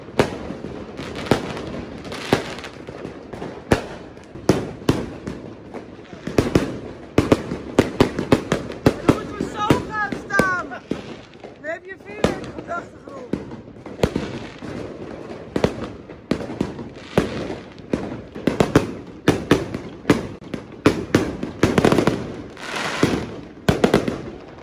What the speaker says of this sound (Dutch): Wij gaan nog even genieten van al het vuurwerk.